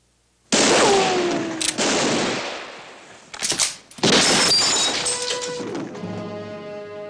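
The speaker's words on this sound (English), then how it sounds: "Give me a medal for killing you, Clegg. And as for you, Cartwright, you just got in the way of a wild bullet." A gunshot in a Western drama cracks loudly and close, followed by a long ringing echo, another sharp crack and a sustained rumbling tail that fades slowly.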